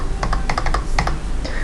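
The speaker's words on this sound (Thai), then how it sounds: "Enter ไปที่เป็นคีย์บอร์ดไปแล้วใส่จำนวนเงินนะ" Numbers are typed on a computer keyboard while entering an amount, a quick run of distinct key clicks in uneven bursts over a low steady hum, close and clear, with no talking.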